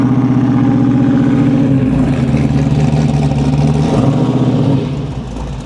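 A Chevrolet Monte Carlo SS engine idles close up with a loud, lumpy, choppy rhythm, rising briefly in pitch as it is revved, then settling lower near the end.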